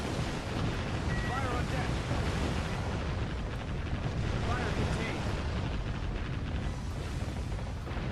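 An enemy battleship sinks in the video game Warship Gunner 2, producing a sustained, rumbling roar of explosions and rushing water, loud and unbroken, with a faint voice over it.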